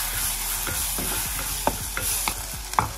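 Tomatoes frying with onion and cumin in a pan, sizzling steadily while a spoon stirs them with a few sharp scrapes and clicks against the pan.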